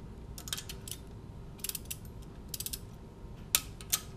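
A torque wrench tightens engine studs on a blown 2004 MINI Cooper S R53 engine being rebuilt, giving quiet ratcheting clicks in short bursts and then two sharper clicks near the end.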